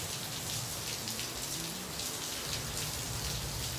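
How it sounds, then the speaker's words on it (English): Heavy rain pouring down steadily outdoors, a dense continuous hiss of drops striking surfaces with no pauses, close and fairly loud throughout. "It's raining"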